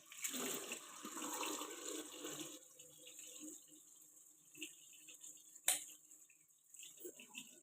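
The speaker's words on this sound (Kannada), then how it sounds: "ಒಂದು ನಿಮಿಷ ನೀಟಾಗಿ ವಾಶ್ ಮಾಡಿಬಿಡ್ತೀನಿ" Running water splashes steadily for about two and a half seconds while face cream is rinsed off, then gives way to quieter dribbles, drips and a few small sharp splashes.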